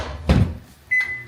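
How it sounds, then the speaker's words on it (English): A microwave oven is shut with a thump and started to heat queso. A short electronic beep follows, close and clear, with no talk. "Stick this in the microwave"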